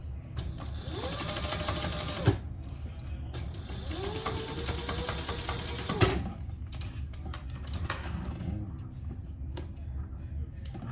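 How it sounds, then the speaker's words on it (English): Sewing machine running two long stitching passes across a hot pink waist pack, a steady mechanical whir with brief pauses and a couple of sharp clicks between runs, close and loud. "Okay, and I will do 2 rows of stitches there."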